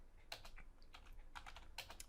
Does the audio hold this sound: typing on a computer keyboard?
yes